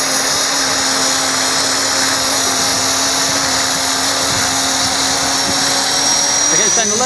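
Rocket-powered RC helicopter rotor spinning up toward full RPM, a loud, steady high whine and drone with a rising tone near the end, while people talk over it.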